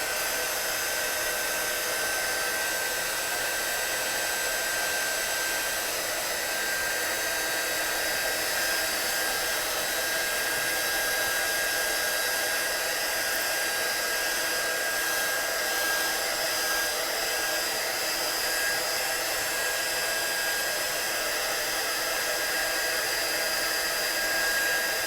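Heat gun blasting air over a freshly stamped card, a loud, steady, unbroken blowing roar that holds at constant strength from start to finish, with no talk over it.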